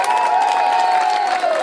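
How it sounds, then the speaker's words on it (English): An audience at the opening ceremony of the 2013 Boonsboro Green Fest applauds, cheers and whistles. The noise is loud and steady, with a high whistle-like tone running through the crowd the whole time. "let's go ahead and applaud and scream and whistle"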